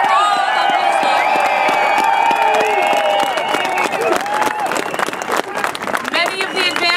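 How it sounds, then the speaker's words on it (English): Crowd at a Queen's Park rally for Ontario horse racing clapping and cheering loudly, with whoops and voices rising over steady applause. "a big round of applause for all of the amazing."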